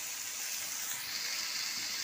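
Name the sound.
lentil paturi in bottle gourd leaves frying in a pan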